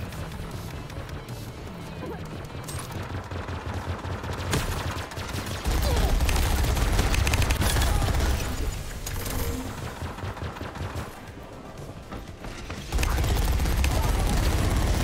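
Minigun in the multiplayer shooter Grapple Tournament firing in long, loud bursts, with dense rapid rattling that stops and restarts across the stretch amid other game noise.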